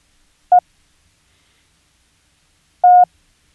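Two short, identical pure beeps a few seconds apart, each a single Morse code dot forming the letter E, clean and isolated against silence.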